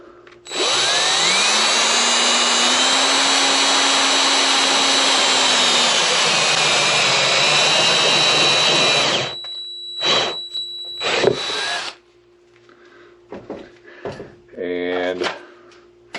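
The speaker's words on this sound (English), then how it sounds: "so it's this step down drill all the way through" A power drill with a step drill bit whines steadily for several seconds at close range as it drills all the way through, then stops, followed by clicks, clunks and brief handling noises.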